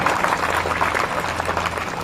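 An audience claps at a district-level housewarming ceremony for the Pradhan Mantri Awas Yojana housing scheme in Nateran, a steady, dense wash of applause held throughout at a fairly loud level.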